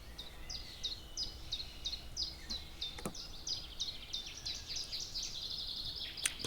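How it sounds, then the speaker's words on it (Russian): A nightingale sings outdoors at a camp in windy weather, a long run of rapid, repeated bright chirping phrases, fairly faint and steady, with a sharp click partway through and no talk. "Соловей прилетел."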